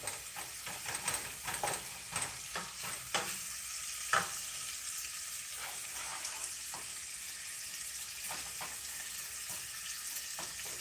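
Garlic fries in a pan for chicken thighs and chili, giving a soft continuous sizzle broken by repeated scraping stirs of a utensil against the pan, with no voices.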